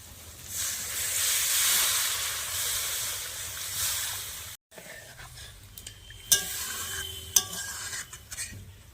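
Water poured onto sizzling fried masala for an egg curry, a loud steamy hiss that rises and then subsides, followed by a few sharp clinks of a utensil against the pan.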